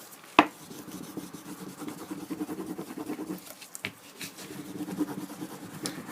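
A rag burnishes a laser-printed image onto a wood surface in soft, quiet, scratchy rubbing strokes, repeated irregularly, with one sharp tap near the start.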